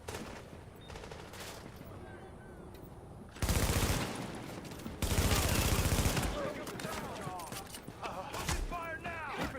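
Video game gunfire rings out in heavy automatic bursts, with two loud sustained volleys following a quieter stretch of scattered shots and voices talking underneath.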